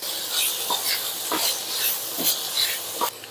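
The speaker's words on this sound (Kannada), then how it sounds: "ಚೆನ್ನಾಗಿ ಹುರ್ಕೋಬೇಕು" Onion and tomato frying in a pan for hotel-style vada curry, a close steady sizzle broken by rhythmic stirring scrapes every half second or so.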